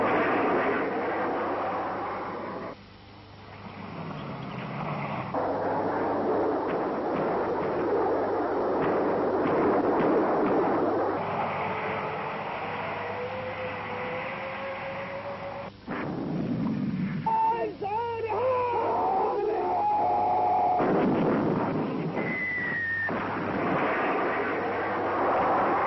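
Archival battlefield sound from the 1971 Indo-Pakistani War at Longewala on the western front: roaring aircraft and artillery fire during a combined tank, air and infantry operation, loud and continuous, with a whining tone and sharp bursts near the end.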